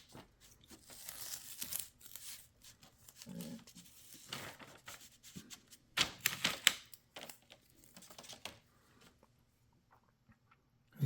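Masking tape is peeled off a carved Corian poker dealer button in several ripping, crinkling bursts of varying loudness, separated by brief quiet gaps, close to the microphone.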